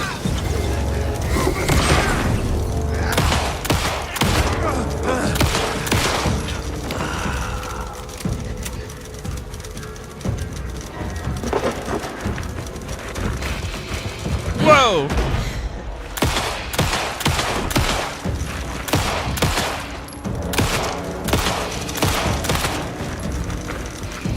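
Gunfire from a firearm in Alan Wake 2, a string of sharp close shots in clusters mixed with mechanical clicks and creaks, dense early and again near the end, with voices heard in between.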